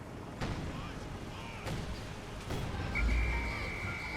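Stuka dive bomber strike in Company of Heroes 2, with a few distant, booming artillery-like impacts and rumbling explosions in a battle scene, followed by a rising whine near the end, with talk over the top.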